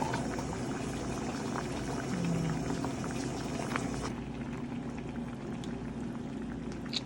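Vegetables simmer in a coconut milk broth, a steady close bubbling and boiling that runs evenly throughout with no talk.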